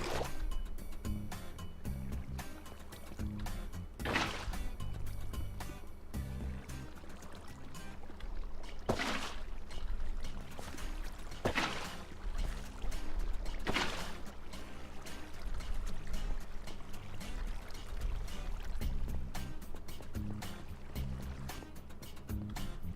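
Water being poured and flowing in the Minecraft video game (version 1.12) while filling a mob trap, a steady moderately loud rushing stream with repeated brief splashy bursts over about twenty seconds, no talking.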